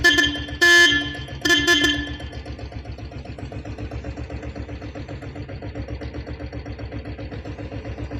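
Two loud, close blasts from a megasonic horn on a Royal Enfield Bullet motorcycle sound near the start, followed by the engine idling with a steady, pulsing thump.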